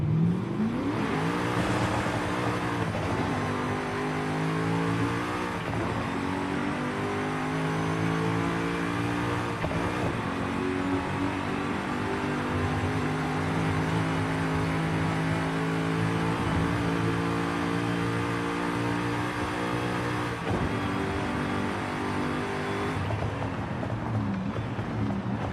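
A car engine in Forza Horizon 5, driven with a Logitech G29 wheel and shifter, revs hard and holds steady, droning loudly, with gear changes and downshifts marked by shifting pitch throughout.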